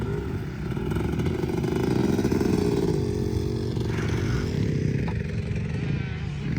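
Several 125cc motorcycles ride through snow, their engines droning steadily and loudly throughout, with the pitch rising and falling slightly as they rev.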